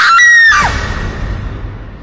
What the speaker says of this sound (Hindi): विशाल पलट के कुछ बोलता उससे पहले ही उसे सुनाई दी सोनम की चीख